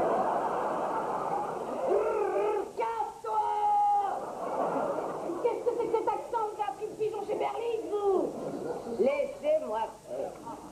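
A voice makes soft, repeated cooing hoots in short bursts, imitating a pigeon, mixed with speech-like warbles.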